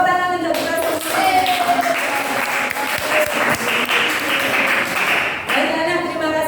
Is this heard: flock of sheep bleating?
no